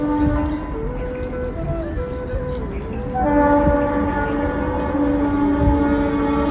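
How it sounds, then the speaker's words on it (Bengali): A train passes close by with its horn sounding in long steady tones over a continuous rumble, and the horn swells louder about halfway through. "ট্রেন তো এখনই আসছে আওয়াজ পাচ্ছি"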